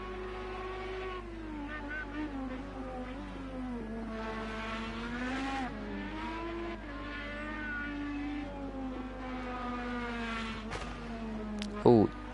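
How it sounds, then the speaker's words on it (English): A sim-racing IndyCar engine on the Indianapolis road course whines and revs in wavering, rising and falling pitches, sounding rough and unhealthy, with tire noise and a brief sharp burst near the end. "that engine does not sound healthy"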